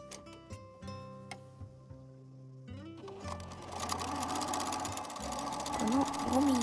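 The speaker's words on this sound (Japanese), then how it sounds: "続いて 5mm の位置にギャザー寄せミシンをかけます。" Scattered clicks and knocks of handling, then a home sewing machine starts and runs a long gathering stitch on dress skirt fabric, its fast rhythmic whir steady and rising slightly toward the end.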